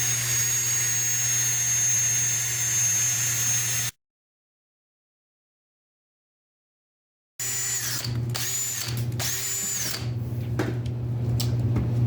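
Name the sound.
cordless drill mixing epoxy resin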